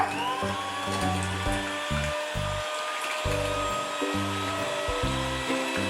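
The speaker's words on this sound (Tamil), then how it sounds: "இத நல்லா பீட் பண்ணிக்கோங்க" An electric mixer beats a condensed milk mixture for vanilla ice cream, its motor whirring loud and close in a steady run broken by short pulses and brief pauses.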